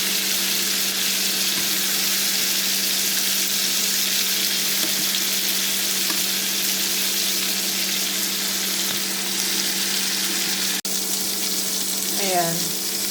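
Shrimp frying in a pan in a home kitchen, a steady close hiss of sizzling oil throughout with a brief clatter and a faint voice near the end.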